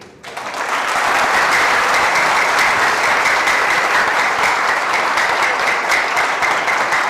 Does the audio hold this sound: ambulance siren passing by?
no